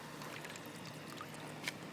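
Water is poured out, a faint, soft continuous trickle lasting a couple of seconds with a small splash near the end, quiet and alone.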